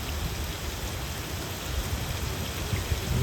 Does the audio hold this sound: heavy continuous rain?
yes